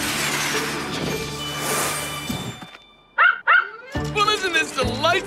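A cartoon robot dog gives a couple of quick, bright yapping barks after a noisy musical passage, followed by lively cartoon sound and voices.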